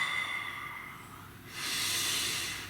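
A single deep breath is taken close to the microphone, with a slow breathy inhale followed by a longer, louder, hissing exhale.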